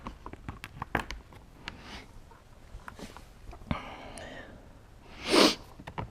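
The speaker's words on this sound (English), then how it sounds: "here we go again with the sniffles" A person sniffles and snorts intermittently while working on a motorcycle fuel tank and pump, with a strong, loud sniff near the end over clicks and light handling noises.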